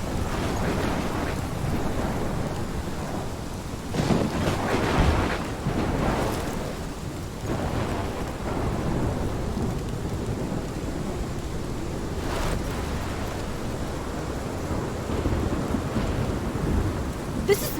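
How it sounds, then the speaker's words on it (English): Thunderstorm with heavy rain in the video game Life is Strange, a constant loud downpour with rolling rumbles of thunder swelling and fading throughout. "This is my storm."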